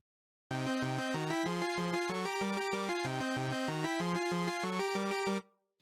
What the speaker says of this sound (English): the arpeggio will be played in different octaves